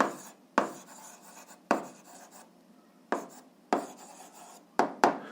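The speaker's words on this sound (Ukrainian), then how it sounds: "давайте запишемо, які це числа" Chalk or marker writing numbers on a board during an eighth-grade algebra lesson: a series of about eight short scratchy strokes, each starting with a sharp tap and trailing off, with brief pauses between them.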